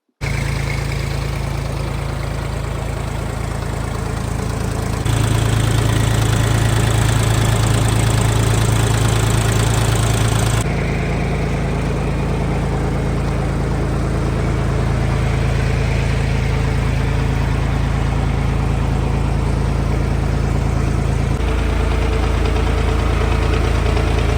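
A Jinma 3244 diesel mini tractor engine runs steadily at idle for the whole stretch, with a low, even rumble and a brief rise in revs partway through. No one speaks.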